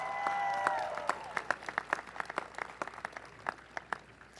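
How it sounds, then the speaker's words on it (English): Scattered applause from a commencement ceremony audience, a few distinct claps under fading tonal music at the start, moderately faint and somewhat distant, thinning into sparse individual claps. "I ask that you give them a big round of applause for supporting you on your endeavors"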